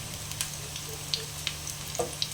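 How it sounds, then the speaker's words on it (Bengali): Batter jackfruit fritters (kathaler bora), five pieces in hot oil over low flame, sizzle with a soft steady hiss and scattered faint pops and crackles, close and quiet with no talking. "পাঁচটা দিয়ে দিয়েছে তেলে ঠিক মতোভাবে হালকা আছে ফ্রাই করতে হবে"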